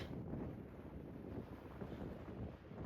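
Steady wind blows in a constant low rush at 3 a.m. near Goat Rocks, Washington, fairly quiet and unbroken, with no voices.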